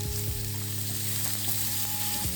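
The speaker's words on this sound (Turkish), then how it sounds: "Soğanımız biraz kavruldu. Biraz da böyle kavuracağız." Onions and chopped peppers fry loudly in a pan, a dense continuous sizzle close up, with occasional stirring scrapes from a utensil.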